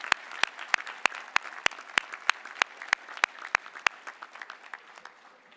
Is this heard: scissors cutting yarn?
no